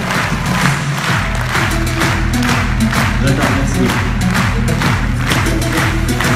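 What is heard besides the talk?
warm audience applause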